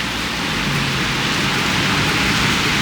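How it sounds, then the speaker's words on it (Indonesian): Heavy rain falls steadily outdoors in Switzerland, a dense, loud, continuous hiss of drops with no pauses and no voices. "Hujan"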